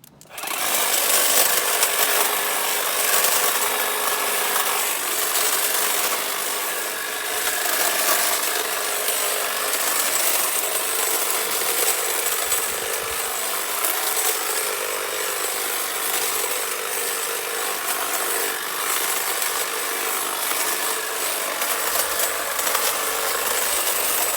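A boxwood bush damaged by caterpillars is cut back low with a power cutting tool, producing a loud, steady buzzing and cutting noise that runs continuously with no speech.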